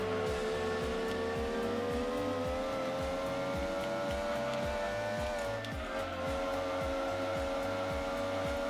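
A Mazda Miata engine drones steadily at high revs in the racing video game Gran Turismo 2, a loud continuous whine with a regular pulsing under it that runs through the whole stretch with no talk.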